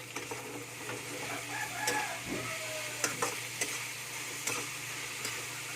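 A utensil stirs ground meat and eggplant in a pan for atcharang labong, with scraping strokes and faint clinks over a soft steady sizzle and low hum, fairly quiet and without speech.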